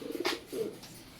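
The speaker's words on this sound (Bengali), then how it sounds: "আর এগুলো হইলো আমার কবুতর।" Pet pigeons at a home give a soft, low coo, a brief rolling call followed by a second murmur, faint and close, with nothing else around.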